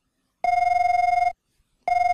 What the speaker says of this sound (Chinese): 要接电话吗？ 接。